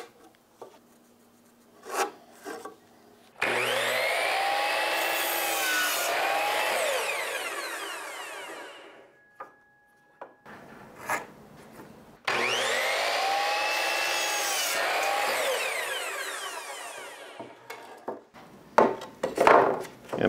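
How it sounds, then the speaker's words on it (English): Two long bursts of a hand saw rasping through scrap wood pieces, each stroke rough and close, separated by quiet handling knocks and taps of the boards. "I'm going to cut off the parts with nails or the parts with some of the worst gouges"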